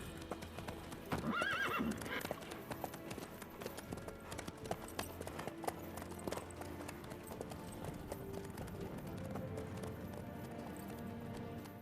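Horse hooves clip-clop steadily in the video game Witcher 3, with a whinny early on, all heard at a low level over a busy background.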